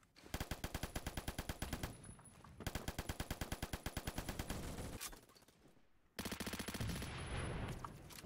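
An M60 light machine gun in Phantom Forces fires long, rapid, steady bursts, loud and close, with a short pause and a brief quieter stretch before it resumes.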